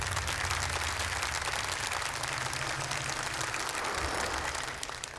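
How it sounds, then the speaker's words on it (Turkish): An audience applauds a contestant at a Quran recitation competition, with dense, steady clapping filling the hall that holds loud and continuous before easing slightly at the end. "Bir kez daha kendilerini alkışlıyoruz, tebrik ediyoruz."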